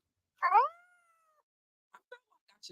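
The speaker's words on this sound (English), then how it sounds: "I should take the cat away" A cat gives a single clear, close meow with a tail that fades slowly. Several faint, brief clicks and small sounds follow in a quiet room.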